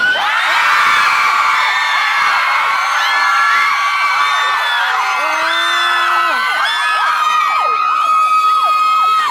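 A large crowd of fans at the Money Expo screams and cheers loudly for a performer, with high shrill whoops and yells rising and falling continuously throughout.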